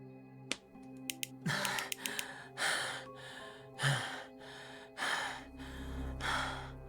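Heavy, ragged breathing from a game character named Noel after repeatedly slamming a desk, a run of loud gasping breaths repeated at a steady pace, with a few sharp snaps and knocks at the start.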